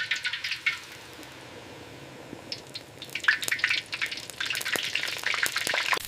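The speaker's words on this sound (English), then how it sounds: "Banh Xeo, literally, the sizzling cake." Small Vietnamese banh xeo pancakes frying in a hot pan, batter crackling and sizzling with bright, popping spatter that grows busier and louder after a quieter start, close up with no voices.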